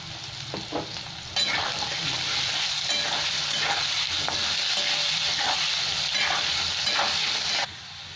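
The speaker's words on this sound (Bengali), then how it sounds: "হলুদ দিয়ে দিচ্ছি, দিয়ে ভেজে নেব লাল লাল করে" Potatoes frying in oil with turmeric and salt, a loud continuous sizzle that starts abruptly and holds steady, with intermittent stirring scrapes, close up and without talk.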